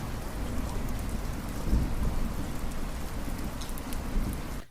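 Steady rain falls and patters on surfaces, with a low rumble of distant thunder underneath, continuous and fairly close.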